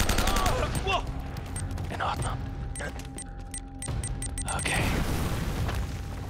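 Rapid bursts of gunfire and booming grenade explosions in a church battle in Uncharted: Drake's Fortune, loud and close, crackling shots clustered in volleys while a voice talks over the action.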